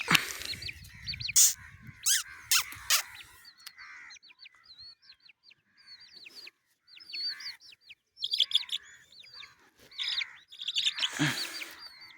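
Small birds chirp and tweet in short, scattered bursts, fairly close, with brief quiet gaps between calls.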